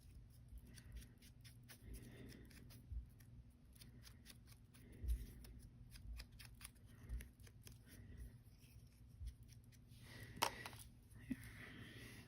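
Scissors make small, faint snips while trimming paper straight for a handmade paper folio craft project. The cuts come sparse and irregular against a quiet room, with a sharper rustle of paper near the end.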